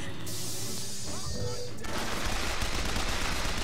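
Rapid gunfire in the video game Bioshock Infinite, a loud sustained fusillade of shots that intensifies midway, with a voice speaking briefly over the noise.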